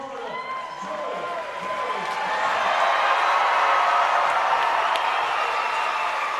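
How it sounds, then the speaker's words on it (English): A crowd at a basketball exhibition tour event swells into loud, sustained cheering and clapping, a broad roar that rises after a couple of seconds and holds, with voices shouting throughout. "And there goes the crowd"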